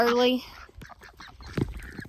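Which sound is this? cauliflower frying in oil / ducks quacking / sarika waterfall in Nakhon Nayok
ducks quacking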